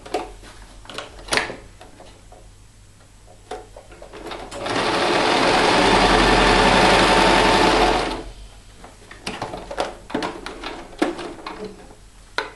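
Sewing machine stitching steadily for several seconds while its tension is being adjusted, a loud continuous mechanical whir framed by scattered clicks and handling taps before and after.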